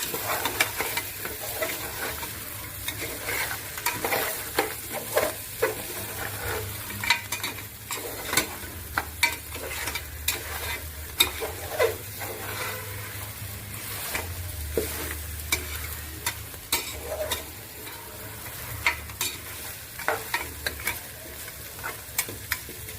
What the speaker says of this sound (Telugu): చక్కగా మసాలా అంతా ముక్కలకి పట్టేలాగా బోన్స్కి కలుపుకోవాలండి